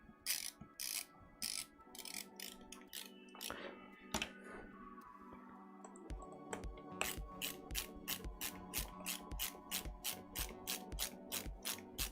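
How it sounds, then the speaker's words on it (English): An M3 screw is driven into a plastic 3D-printed part, giving a quick run of close ratcheting clicks and mechanical ticks in bursts, with a person talking in between. "And you're screwing into plastic"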